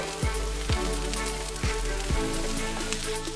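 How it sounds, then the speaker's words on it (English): Scrambled eggs and vegetables fry on a Blackstone griddle with a dense, close sizzle. Several soft knocks, probably from a spatula on the cooking surface, land at irregular intervals, and no one speaks. "So we'll start with the scrambled eggs while the vegetables are cooking."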